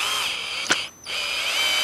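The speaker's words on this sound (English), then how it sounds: "So you're going to get your screwdriver, or drill, and then your skate tool." Power drill driving bolts to mount longboard trucks, a steady close whirring motor with a short click midway, a brief pause, then the whine resumes, with no talk.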